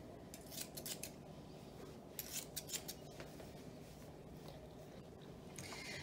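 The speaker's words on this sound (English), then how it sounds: "Then I take my thinning scissors. I'm going to trim this up to blend into his tail." Thinning scissors trim an English Springer Spaniel's coat near the tail, giving quiet, close metallic snipping in short irregular bursts over low background hiss.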